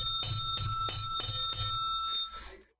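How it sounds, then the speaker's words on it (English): A small rusted bell, like a bicycle bell, is rung about five times in a quick, regular run of bright metallic dings with ringing tones, close and clear before fading out. "Wants me to ring my rusted bell."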